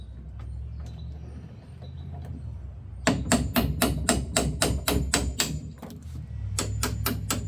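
Hammer blows on a painted 1952 oak dresser, a rapid run of about a dozen sharp, close, loud strikes, a pause, then several more, over a low background rumble.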